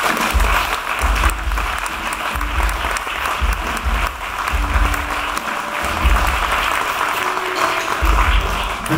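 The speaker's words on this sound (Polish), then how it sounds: "Wielkie dzięki i wielkie brawa naszym gospodarzom." Steady, sustained applause from a concert audience for the hosts at a Bydgoszcz stage performance, a dense wash of clapping running loud and even throughout with no voices on top.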